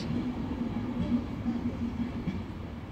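A passenger train with a Class 82 DVT at the rear departs from Wakefield Westgate station, its steady rumble and faint clatter holding a low hum as it moves off into the distance.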